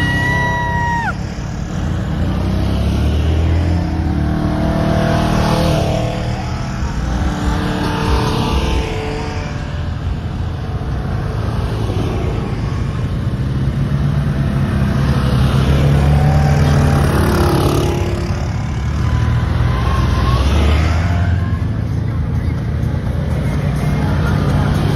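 Off-road vehicles on an Oxford Trail Club fireworks trail ride rev and pull away one after another, engine roars rising and passing at moderate distance over a constant rumble, with people talking nearby.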